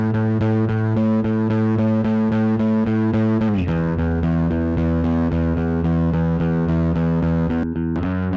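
Sustained harmonic instrument tones pushed through a UAD Neve 1084 preamp plugin, thick with saturation and distortion, holding a steady chord that shifts near the middle and again near the end, loud and continuous with no talk.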